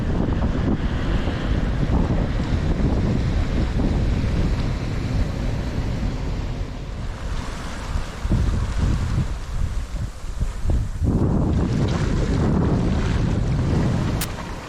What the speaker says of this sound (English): today's been a wild day of all downwind sailing